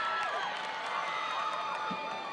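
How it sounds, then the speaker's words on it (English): Supporters of Boston College in the stands of an ACC women's soccer stadium cheer and shout in a steady, distant crowd roar with a few whoops, continuous for a couple of seconds. "you can hear the energy not only in the Boston College bench, but also from their supporters in the crowd"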